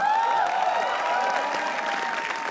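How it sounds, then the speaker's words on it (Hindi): An audience at a live stand-up roast battle applauds, a dense, sustained clatter of clapping heard close and loud throughout, with a faint voice briefly audible over it. "तालियां प्लीज।"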